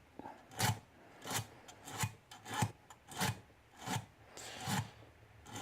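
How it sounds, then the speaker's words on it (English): Metal lock picks hand-sanded with 600 then 1200 grit wet and dry sandpaper, a close rasping rub repeated in an even back-and-forth rhythm of about eight strokes, alone. "with 600 and then the 1200 wet and dry sandpaper to smooth them right out."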